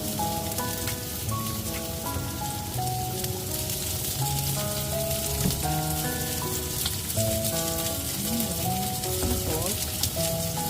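Garlic and onion sauté in a pan for mung bean soup, with a dense steady sizzle under a tonal musical background, close and continuous.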